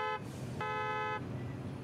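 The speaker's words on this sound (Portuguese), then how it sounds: "Para de buzinar." Car horns honking in the parking simulation game Parking Tycoon: Business Simulator, two sustained toots, one short and one longer, with a quiet background between.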